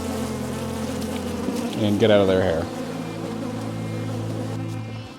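Honey bees drone in a steady, close buzz around an open hive during a frame inspection, with a brief louder swell near the middle and a person talking over the hum.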